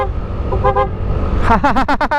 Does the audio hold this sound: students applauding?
no